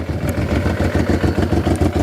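A Honda Africa Twin motorcycle with an aftermarket exhaust idles close by with a deep, steady pulsing throb, its low exhaust note loud and even, with no voices over it.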